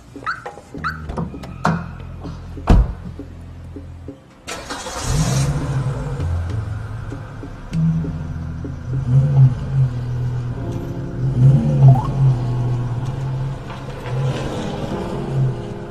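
A car edges out of a tightly packed parking spot, its engine idling and rising in short revving pushes at mid distance, preceded by a few sharp knocks and a dog barking.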